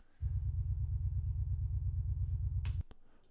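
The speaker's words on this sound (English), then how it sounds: "Second one is a kick out or a sub kick." A sub kick drum track from a metal mix plays as a sustained, booming low rumble of rapid kicks for about two and a half seconds, then stops abruptly with a short click, with no voices.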